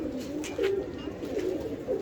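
Breeder pigeons coo in soft, repeated low throaty calls, several overlapping phrases close by over a quiet background, with no speech.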